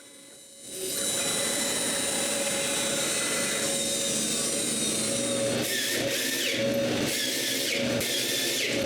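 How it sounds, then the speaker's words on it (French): A power drill with a normal bit bores screw holes into metal, whining loudly and steadily at close range. Near the end it breaks into several short on-off bursts. "mettre une mèche normale pour percer le métal et percer 15 trous pour des vis"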